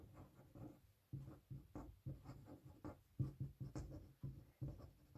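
Handwriting math notes on rates, a close, quiet run of short scratchy pen strokes in quick irregular bursts, with no talking.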